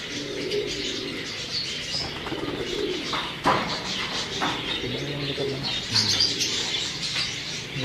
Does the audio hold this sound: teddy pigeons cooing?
yes